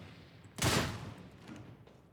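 A single loud, close burst of gunfire with a rumbling tail in the Warhammer 40K: Darktide shooter, fired by a Veteran infiltrator, followed by fainter echoes and a lighter shot or two.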